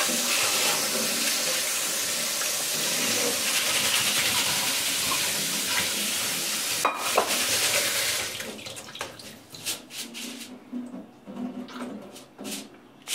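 Water runs steadily from a tap into a container, then breaks into swishing and splashing as rice is rinsed by hand to remove starch, close by.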